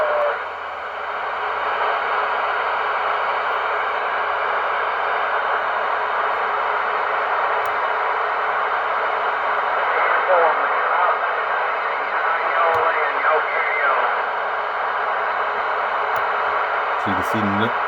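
Steady loud hiss of static comes from a Cobra 29 WXNWST CB radio receiver turned up high, with faint warbling tones drifting through the noise and a low hum beneath, unbroken for the whole stretch.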